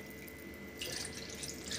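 Water runs into a tumbler-measured container of yogurt for spiced buttermilk, a steady hissing splash that grows louder partway through, fairly close.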